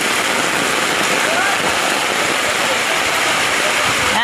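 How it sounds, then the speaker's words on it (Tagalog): Loud, steady rush of a strong floodwater current after a sudden downpour fills the clip, a dense roaring wash with no pauses, close by. "malakas ang agos ng tubig"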